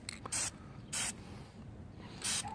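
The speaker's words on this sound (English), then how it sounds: "Give the test spray here." Enamel spray paint hisses out of an aerosol can in three short, separate bursts, close by and fairly loud against a quiet background, with no talk.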